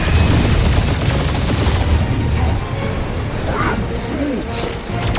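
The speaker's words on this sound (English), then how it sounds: "Keep up the barrage." Dense gunfire barrage from a Guardians of the Galaxy combat scene, loud and sustained for about two seconds before thinning into a softer, continuous battle din with a few scattered effects.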